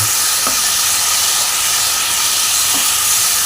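Spice paste loosened with water is sautéed in a pan for a Bengali papaya ghonto, giving a loud, continuous close hiss and sizzle with a couple of soft stirring taps.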